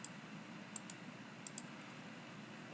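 Sharp mouse clicks in CAD software, four of them scattered over a quiet background with a faint steady hiss: a pair close together, then another pair, no voices.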